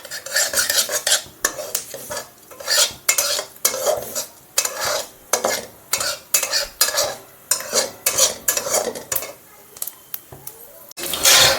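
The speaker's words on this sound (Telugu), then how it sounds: "ఈ విత్తనాలన్నీ గింజలన్నీ వేగినాయి, సోంపు అవన్నీ" Kalonji, fenugreek and fennel seeds fry in oil for a raw mango sweet pickle, with repeated scraping stirs and clinks of a metal spoon against the pan over a steady sizzle, close and fairly loud.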